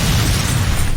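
A huge explosion blasts a house apart in a scene from the Korean film Berlin, a loud, close, sustained roar of broadband rumble that fills the whole moment.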